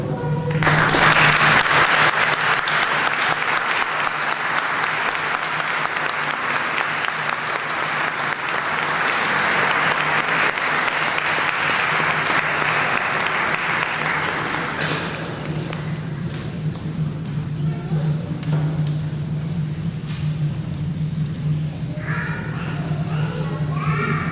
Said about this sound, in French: on va l'acclamer et applaudir tout le monde.